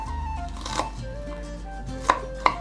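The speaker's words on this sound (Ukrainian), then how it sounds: "нарізаємо цибулю е, квадратиками" A knife chopping onion into small squares on a cutting board, three sharp distinct chops spaced apart over a faint background hum, close and clear with no talk.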